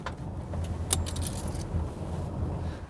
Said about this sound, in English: quiet enough inside to hear a pin drop, and I have one here